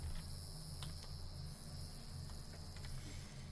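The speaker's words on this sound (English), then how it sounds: "I hear the cicada." A cicada droning steadily in the Vintage Story video game, a faint, continuous high-pitched buzz over a low background hum, with a few light clicks scattered through it.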